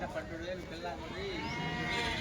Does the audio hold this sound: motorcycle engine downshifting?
no